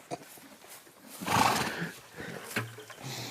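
A horse named Standfast whinnies and snorts as a rider climbs onto its back, a loud neigh swelling midway, followed by shuffling hoof and tack noises close by with no talk.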